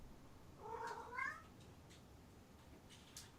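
A cat gives a single faint, drawn-out meow in a quiet room, followed by near silence with a couple of soft ticks.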